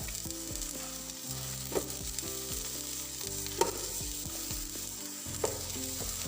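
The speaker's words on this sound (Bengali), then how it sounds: "এভাবেই ফ্রাই করব।" Food frying in a pan with no salt added, a steady sizzle and crackle running throughout with a few brief louder pops and clatters, fairly close.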